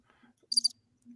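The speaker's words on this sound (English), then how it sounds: "I don't have a cricket sound" A single short cricket chirp, a brief high buzzing trill in the middle of a quiet moment, faint and alone.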